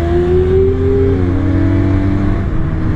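Benelli Leoncino motorcycle engine climbing a mountain road, a loud close steady drone with a rising tone that drops as the rider changes gear, wind rush underneath.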